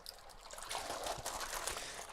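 Water trickles and splashes softly while dishes are rinsed at a kitchen sink, a faint continuous dribble with light clinks and no talking.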